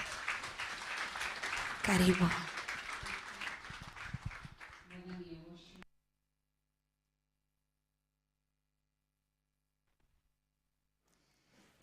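A congregation in a church tent service claps loudly for about six seconds, with voices mixed into the applause. A single spoken word comes near the end of the clapping, then near silence follows.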